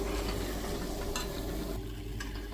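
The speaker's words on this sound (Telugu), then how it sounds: "చూడండి మంచిగా ఫ్రై అవుతుంది కదా, ఇలా అడుగంటకుండా కలుపుకుంటూ ఉండాలి" A potato mixture fries in oil for aloo puttu, with a steady soft sizzle and occasional scraping of a spoon stirring the pan, close and moderately quiet.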